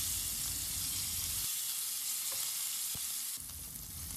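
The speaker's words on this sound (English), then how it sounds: "And on medium flame, we will fry them until they are golden brown from both the sides." Pieces of rohu fish frying in hot oil over a medium flame, a steady close hiss of sizzling with a few faint pops and a soft shift in the noise partway through.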